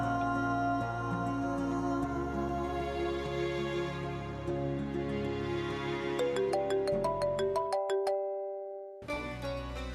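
A phone ringtone from an incoming call plays as a loud melodic tune with repeating chimes and a rhythmic pulse, pausing briefly near the end before starting again.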